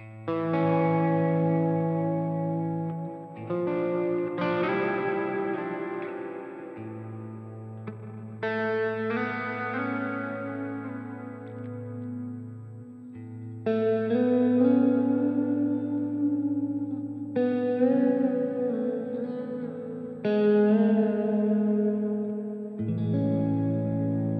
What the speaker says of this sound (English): Hall reverb I use a lot. I'm going to turn the mix up and the decay up.